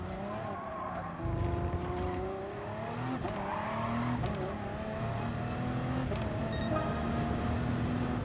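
In GT Sport, an Audi race car launches from a standing start, its engine revving hard and rising in pitch through the gears. Other cars roar close around it, and a tire squeal cuts in briefly.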